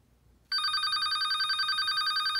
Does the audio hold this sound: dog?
no